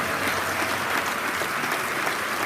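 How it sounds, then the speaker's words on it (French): Sustained applause at a martial arts festival follows a Shotokan karate demonstration, a dense even clapping from a crowd that holds steady throughout the short stretch. "Applaudissez-les bien fort"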